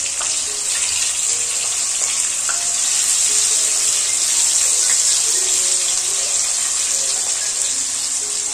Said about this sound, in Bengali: সেদ্ধ করা আলুগুলো ভেজে নেব।